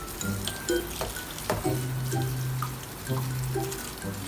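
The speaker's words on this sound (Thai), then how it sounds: "เราล้างน้ำแบบน้ำไหล" Water runs and splashes from a tap as vegetables are washed in a sink, with light clinks, steady and close, no talking.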